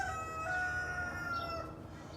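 A young rooster in a backyard chicken flock crows once, a clear drawn-out cock-a-doodle-doo with a faint background hum and no voices.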